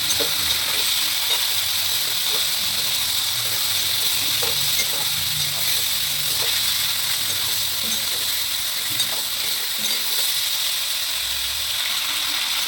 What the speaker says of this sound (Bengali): লবণ দিয়ে দিচ্ছি যতক্ষণ পর্যন্ত লাল হয় ততক্ষণ মধ্যে হালকা করে ভাজবো